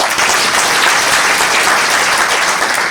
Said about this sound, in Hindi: जरा तिवारी जी के लिए जरा जोरदार ताली बजाओ।